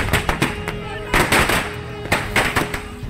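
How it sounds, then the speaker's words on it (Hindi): Congress party workers set off firecrackers to celebrate an election win in Sri Karanpur, with sharp bursts popping irregularly in quick clusters amid crowd noise and some talking. "कांग्रेस कार्यकर्ताओं ने जमकर फोड़े पटाखे।"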